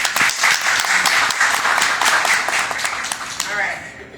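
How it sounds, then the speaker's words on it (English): Audience applause at a neighborhood watch meet-and-greet, a dense, steady burst of clapping that tapers off near the end, with some voices in the room. "So if you can just clap for them."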